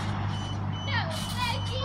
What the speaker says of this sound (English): See, it beeps and slows you down.